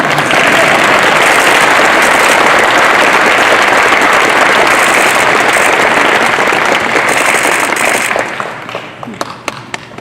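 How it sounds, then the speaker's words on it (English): A loud, dense round of applause fills a hall of fame presentation for a community college inductee, many hands clapping steadily for about eight seconds before thinning out into a few scattered final claps. "You have to clap so he smiles"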